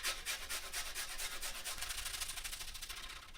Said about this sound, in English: for your garlic, you can either use a garlic crusher, or in this case I'm just going to use a grater